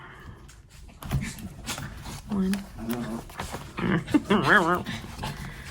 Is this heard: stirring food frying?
no